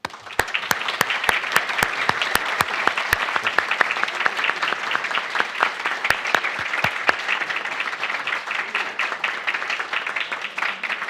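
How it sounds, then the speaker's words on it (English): An audience applauds participants and speakers at an International Day of Cooperatives 2025 event. Individual sharp claps stand out over a steady, moderately loud wash of hands that carries on for about eleven seconds, with no one talking. "let's applaud all the participants and all the speakers."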